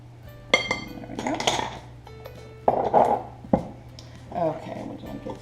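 Cinnamon is mixed into coffee cake batter in a bowl. A utensil clatters and clinks against the bowl in irregular, close bursts.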